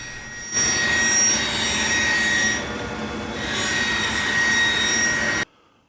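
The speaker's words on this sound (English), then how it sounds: "I will run the piece across the joiner to get a straight edge, and then I will take it to the bandsaw after that and get the rough width cut." A wood jointer runs boards across its cutterhead, then a bandsaw cuts the rough width, a loud, continuous rushing roar of machine noise that dips briefly and cuts off sharply, heard close in a woodshop while drawers are made.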